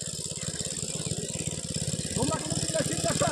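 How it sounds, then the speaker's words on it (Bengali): An engine-driven pump machine watering a farm field chugs nearby in a steady, rapid rhythmic beat that holds throughout, with a person talking over it. "জমিতে জল দিচ্ছে দেখো মেশিনে।"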